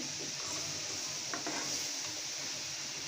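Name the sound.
stirring and frying kolmi greens with shrimp in a pan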